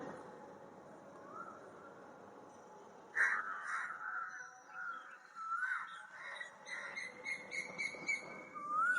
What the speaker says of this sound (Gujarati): મોર્નિંગમાં 5:30 વાગ્યાની અહીંયા કોયલ આવી ગઈ